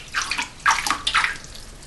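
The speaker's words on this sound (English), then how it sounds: "Now what I'm going to do is I'm going to take my hand and I'm going to put it in the water" A hand sweeps through water in a pot, making three close, splashy sloshing surges one after another, with no voices.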